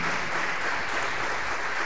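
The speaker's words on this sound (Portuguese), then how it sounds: "as palmas bem forte para louvar o santo nome do nosso Salvador Jesus Cristo" A church congregation claps steadily in praise during a service, the dense applause sustained and even throughout with no talk over it.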